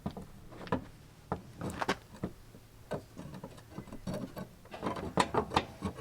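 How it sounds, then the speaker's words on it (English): A metal rod is pushed into a hole atop a Toyota 4Runner's rear bumper to reach the spare tire lowering mechanism, producing quiet irregular clicks, scrapes and knocks close by, with no talking. "Next, insert the rod into the hole."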